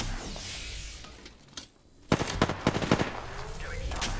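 Automatic and single gunshots in the video game Apex Legends, a rapid burst of sharp close cracks in the second half after a quieter stretch, over continuous game ambience.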